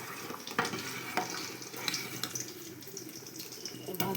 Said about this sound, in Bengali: এই যে ভাত ফুটছে।